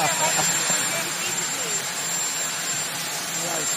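Steady broadband roar of a jet airplane passing overhead, loud and continuous throughout, masking a faint played recording and voices underneath.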